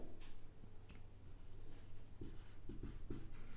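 Chalk or marker writing on a classroom board during a physics lecture on light, reflection and refraction, heard as faint, short scratchy strokes in a few quick bursts over a steady low room hum.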